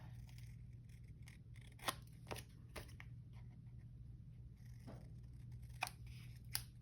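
Scissors cut a piece off a paper journaling card in a series of crisp, separate snips spaced irregularly over a quiet, low background hum, close and fairly faint, without talking.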